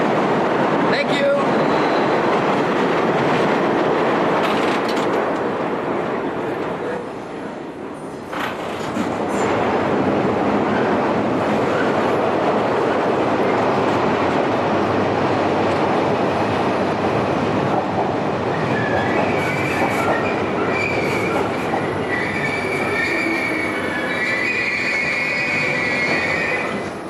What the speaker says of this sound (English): the fastest way to travel in this town is to go under it, on the subway